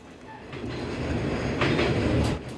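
A Noto Railway train runs along a quake-repaired line between Nanao and Noto-Nakajima, its rumble and rhythmic wheel clatter swelling steadily close by, with no talk.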